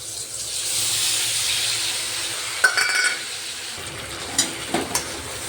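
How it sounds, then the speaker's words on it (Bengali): Ginger, fennel and radhuni pastes sauté in mustard oil with a bay leaf, a quiet hiss and sizzle broken by a few scraping, clinking strokes of a spoon against the pan. "আমি ভালো করে তেলের সাথে কষিয়ে নেব।"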